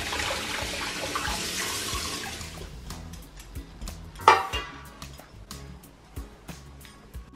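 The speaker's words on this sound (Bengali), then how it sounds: "এখন নামাজ পড়ে আমি সব যা যা জমছে সেগুলা ওয়াশ করে নিচ্ছি।" Accumulated dishes washed at a kitchen sink, starting with a steady rush of tap water, then the tap goes off and plates and utensils clink and knock in irregular bursts, close by.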